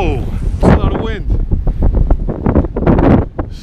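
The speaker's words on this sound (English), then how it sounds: "it's really windy right now, crazy windy." Strong wind buffets a microphone outdoors while walking through Merida, Mexico, in heavy, continuous low rumbling gusts, with someone talking over it.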